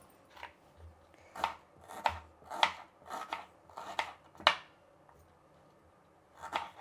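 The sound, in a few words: knife chopping onions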